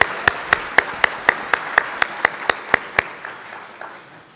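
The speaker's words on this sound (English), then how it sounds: "So a round of applause for the sponsors." About a dozen crisp, evenly spaced claps ring out at a steady beat in a room at a planning association's conference awards ceremony, then stop, sounding more like one person's hands than a full crowd.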